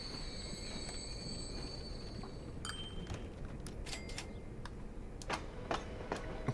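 A train in the video game Transport Fever 2 pulls into a station: a steady low rolling rumble with faint wheel squeal and scattered metallic clicks and ticks building toward the end.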